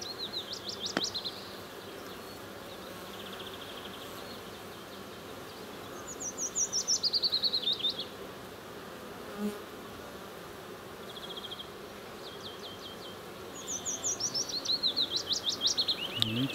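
Bees work at a hive with a low, steady buzz, while birds chirp in separate bursts over it and no one speaks.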